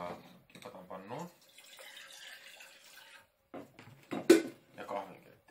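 Tap water being measured out and poured from a cup into a coffee maker's pot, a steady broadband pour lasting about two seconds, with someone talking before and after it.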